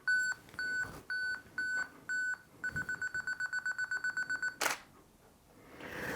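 A camera on a table-top photography setup sounds a self-timer: five slow, evenly spaced beeps, then a quicker run of about a dozen beeps, then a sharp shutter release click. No voices are heard.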